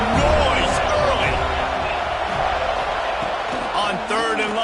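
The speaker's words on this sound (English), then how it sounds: "Crowd bringing the energy and noise early." A steady, dense roar rises from a stadium crowd in the NCAA 26 college football video game, loud and continuous with voices talking over it.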